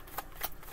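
Brief riffling of tarot cards being shuffled, two quick papery flutters up close in under a second.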